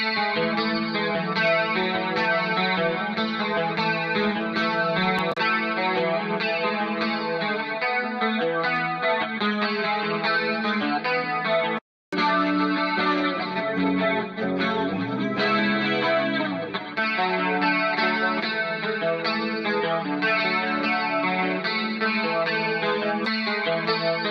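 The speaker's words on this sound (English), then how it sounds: "So last high pass filter here, without it and then with it." An electric guitar with chorus and distortion strums steadily, first unfiltered, then after a short gap with a 179 Hz high-pass filter at a 12 dB per octave slope, which leaves it thinner in the lows; no voices.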